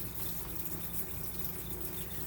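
Water runs from a kitchen tap into a pan for cooking rice, a steady close rushing stream that continues without a break.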